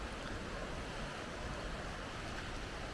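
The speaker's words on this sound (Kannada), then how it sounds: "ಇಲ್ಲೊಂದು ನದಿ ಥರ ಹಳ್ಳ ಹರ್ಕೊಂಡು ಹೋಗ್ತಾ ಇದೆ" A stream swollen by rain rushing through a coffee estate in Chikkamagaluru, a dense, constant roar of flowing water with no pauses, close and loud throughout.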